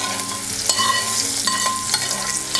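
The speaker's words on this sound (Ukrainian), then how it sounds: "Гриби обсмажую на іншій сковорідці" Steady sizzle of mushrooms frying, with occasional stirring scrapes and clinks of a utensil against a pan, close and continuous, no talking.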